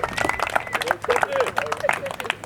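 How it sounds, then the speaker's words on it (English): End-of-year salute for varsity freshman and sophomore team members, where the audience breaks into steady, close applause: dense rapid clapping lasting throughout, with crowd noise mixed in. "Give him a round of applause."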